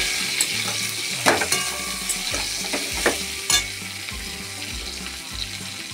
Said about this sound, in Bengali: সবজিগুলো ভাজা হয়ে গেছে, এর মধ্যে আমি হলুদ গুঁড়ো, লবণ মিশিয়ে একটু কষিয়ে নেব।